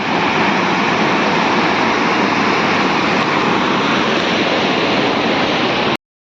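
Steady, loud rushing water of a river near Napne Waterfall in Konkan, India fills the whole clip without a break, a dense broadband roar, then cuts off abruptly near the end.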